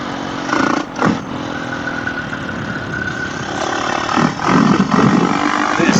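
Husqvarna FE350 dirt bike engines rev and idle on Oregon single track, a steady mid-pitched drone with a few rising throttle blips, moderately close, with no talk.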